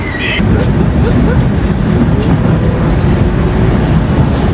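A Moscow metro train at Komsomolskaya station gives a loud, continuous rumble and roar throughout, with a brief higher tone at the start and no clear speech.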